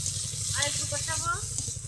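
Spice paste of ground coriander, cumin and ginger fries in oil for an egg and yam curry, giving a steady close hiss throughout while a voice speaks over it.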